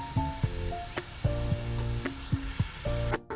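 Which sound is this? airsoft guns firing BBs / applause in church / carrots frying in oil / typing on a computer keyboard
carrots frying in oil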